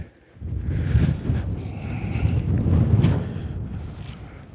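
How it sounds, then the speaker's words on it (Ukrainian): Gusty wind buffets the microphone in low, rushing waves, rising and falling over several seconds across an open crop field on a cold, frosty day. "на полю вітер дує"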